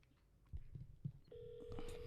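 A telephone is dialed to call a golf store: a few soft button taps followed by a sustained, clear dial tone, close and quiet.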